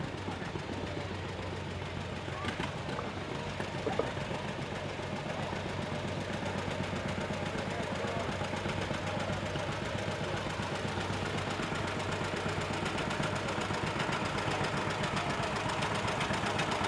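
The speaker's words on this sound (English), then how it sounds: "Tom Summerfield is from Hastings, driving his 1951 John Deere B." A 1951 John Deere B tractor engine runs in an antique machinery parade, a steady low chugging drone that stays even and fairly close throughout, with outdoor background noise around it.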